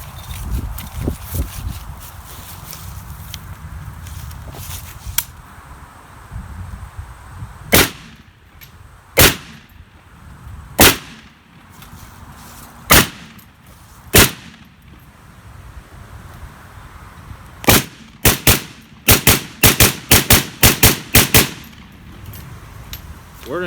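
A Yugo Zastava M72B1 rifle fired from the prone position lets off sharp, loud single shots spaced several seconds apart, then a quicker cluster of shots near the end, with quieter handling noise between them.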